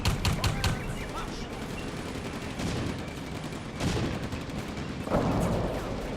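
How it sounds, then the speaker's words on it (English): Machine gun fire in the World War II strategy game Combat Mission: Afrika Korps, with rapid bursts of shots crackling over a dense battle din, some sharper bursts standing out near the start and end. "Being hit by the machine gun here."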